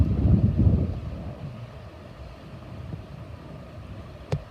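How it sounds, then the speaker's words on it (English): Wind blows at night at Sachs Point, a low, rumbling buffet that is strongest at the start and then eases to a softer steady rush, with one brief knock near the end. "Feel the wind."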